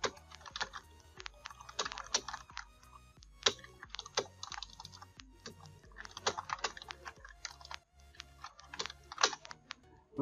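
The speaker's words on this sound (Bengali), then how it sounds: "আমি এখানে কিছু জিনিস একটু লিখি।" Steady typing on a computer keyboard while entering text in Microsoft Word 2019, crisp close key clicks in irregular bursts with short pauses, quiet overall and with no talking.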